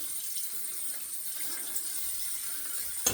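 A faucet runs steadily to rinse a freshly worked object, a soft continuous hiss of flowing water ending in a small clunk, with no talk.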